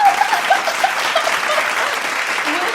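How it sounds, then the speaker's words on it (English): A studio audience applauds to welcome a guest onto a podcast set: a steady, dense burst of clapping that fills about three seconds at an even level, with no voices on top. "Cue applause."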